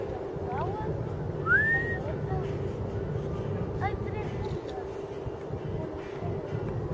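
A person on a boat whistles out over the sea to call whales, giving several short rising whistles against steady engine and wind rumble, with a voice talking faintly in the background.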